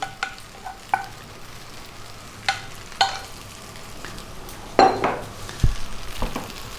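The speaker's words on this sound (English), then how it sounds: "We're going to take our egg mixture there, drop that in." An egg mixture sizzles in a hot pan with chicken chow mein noodles over high heat, a steady frying hiss punctuated by sharp clinks and scrapes of a utensil stirring against the pan.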